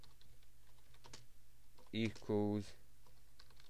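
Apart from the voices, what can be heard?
typing code on a computer keyboard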